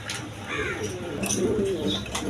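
A pair of blue Shaling pigeons coo in low, throaty, repeated calls, close and moderately loud, with faint chirps and rustling around them.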